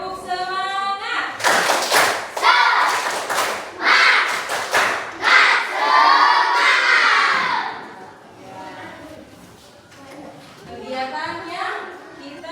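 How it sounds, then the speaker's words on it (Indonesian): A classroom of children doing a spirit clapping chant, bursts of loud rhythmic group clapping and thumps mixed with chanted voices, with an adult's voice and children's speech in the quieter stretches. "sebelum kita memulai kita harus tepuk semangat dulu"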